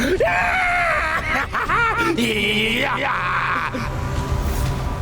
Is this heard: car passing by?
no